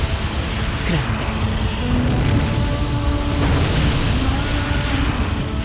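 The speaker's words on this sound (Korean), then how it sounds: "베수비오 산이 폭발했다." Massive volcanic eruption of Mount Vesuvius in 79 AD, a continuous loud, dense roar and rumble sustained throughout with deep booming undertones and a few swelling surges.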